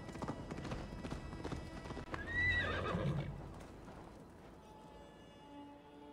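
A horse's hooves clip-clop in Assassin's Creed Valhalla, steady rhythmic hoofbeats with a brief whinny in the middle, fairly quiet overall with a faint tonal game ambience trailing after.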